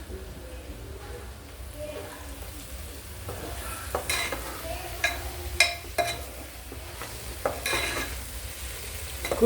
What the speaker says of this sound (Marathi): ती आता आपण ह्या फोडणीमध्ये ऍड करणार आणि छान प्रकारे परतून घेणार आहोत